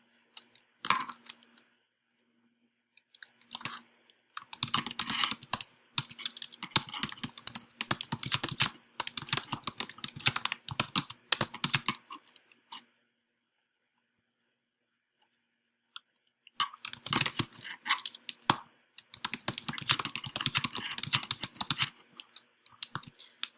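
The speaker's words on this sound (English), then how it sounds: "Next, you type in the answers into each answer spot." Rapid clicking keystrokes on a computer keyboard come in two long stretches of busy typing separated by several seconds of silence, close and crisp with no talking.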